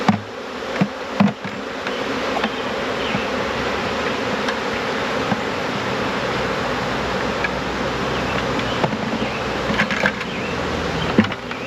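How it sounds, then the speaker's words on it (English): Honey bees buzz steadily and close up inside a cup used for a Varroa mite check, a dense continuous drone with a few soft knocks near the start and end. "Gonna get my cup of bees."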